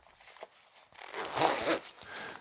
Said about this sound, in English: now we got to do up the zipper